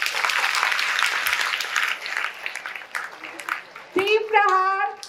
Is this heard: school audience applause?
yes